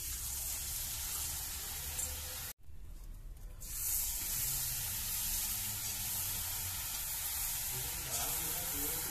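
Minapa janthikalu dough rings frying in hot oil: a dense, continuous bubbling sizzle, loud and close, broken by a brief near-silent gap before the hiss resumes.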